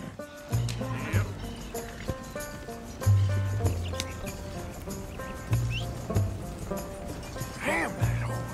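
Horse hooves in the video game Red Dead Redemption 2, a steady repeated clip-clop of a riding horse under game music, with occasional short voice sounds mixed in.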